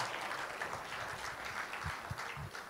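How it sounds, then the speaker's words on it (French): Applause greets a man named Pascal being introduced at a French-speaking gathering, a fairly quiet, steady patter of clapping that continues for a few seconds at moderate distance. "est-ce qu'on peut l'applaudir?"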